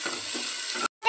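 Chopped tomatoes and green chillies sizzle and get stirred in a pan for masala rice, a steady close frying hiss with a brief stop near the end, no voices.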